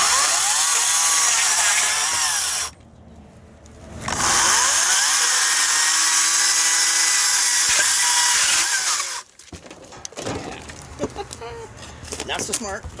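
A Greenworks 60 volt battery chainsaw screams at full speed nearby, drops off briefly, spins back up for a long steady run, then stops into rustling and faint handling noises.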